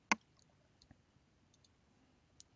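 A computer mouse gives a single sharp, close click at the start while clicking OK, followed by a few much fainter ticks in a quiet room.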